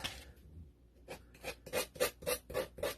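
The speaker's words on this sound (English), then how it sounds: "I'm just going to sand only half of this" Sandpaper rubbing over a decoupaged painted Christmas tree wall in a run of rhythmic back-and-forth scrapes that grow steadier and louder after a brief quiet start, close and alone.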